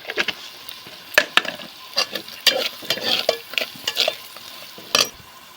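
Mutton pieces with chili powder, turmeric and garam masala frying in oil, a soft sizzle broken by sharp irregular spoon scrapes and clinks against the pan, close up and without speech.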